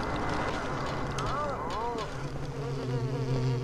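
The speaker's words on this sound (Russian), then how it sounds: "Еще и мухи эти." Flies buzz steadily through a dark scene in the video game Silent Hill 4, with a wavering drone under low game ambience and a voice talking over it.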